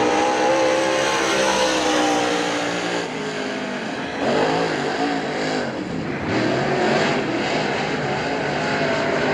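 Race cars roar around Hagerstown Speedway during a two-lap qualifying run, a loud sustained engine drone that rises and falls as they move through the turns.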